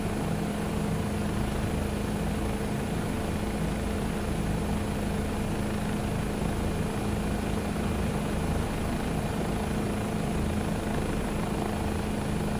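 Bell 407 helicopter in Microsoft Flight Simulator 2024, its turbine engine and rotor giving a loud, continuous whine and dense steady drone close up.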